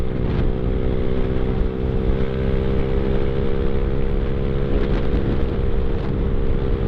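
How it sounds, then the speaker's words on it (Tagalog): Strong wind roars into a motorcycle rider's helmet microphone on a tollway, a loud constant buffeting rush over the low, steady drone of the bike's engine. "Sobrang lakas nga ng hangin."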